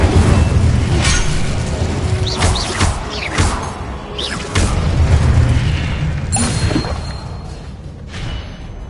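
A fire spell cast in a Harry Potter video game goes off in repeated booming bursts, with whooshing flares and thuds that swell and fade over a busy game backdrop.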